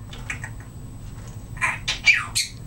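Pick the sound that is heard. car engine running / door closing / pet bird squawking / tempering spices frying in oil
pet bird squawking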